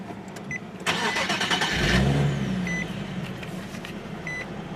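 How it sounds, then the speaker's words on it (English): A 2013 Nissan 370Z with its 3.7-liter V6 and stock exhaust starts via push button: a brief starter whir, then the engine catches and flares loudly before settling to a steady idle, heard close with traffic noise around. "let's go ahead and fire it up and see how it starts, or see how she sounds"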